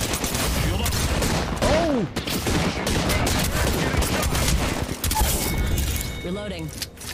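Apex Legends match gunfire, with rapid shots and bursts running almost continuously, dense and loud, mixed with game effects and a short spoken exclamation.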